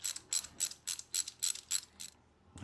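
Ratchet wrench turning a magnetic spark plug socket on a 2025 Harley-Davidson Road Glide 117, giving eight quick, close, loud clicking bursts in a steady rhythm with no talk.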